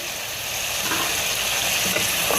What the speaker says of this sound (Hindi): ये गोश्त भुन गया है, इसमें से लहसुन की खुशबू आ रही है।